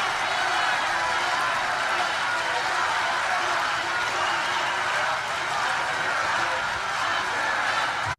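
A large political rally crowd cheers and claps continuously, a thick, even roar of applause and voices that holds at a steady level throughout.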